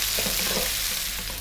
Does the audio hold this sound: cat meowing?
no